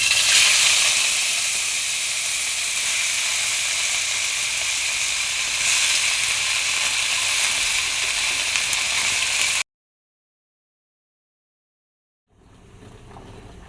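Mint and coriander leaves fry in a little oil with a loud, bright sizzling hiss that holds steady for several seconds, then cuts out abruptly into silence before a faint sizzle returns.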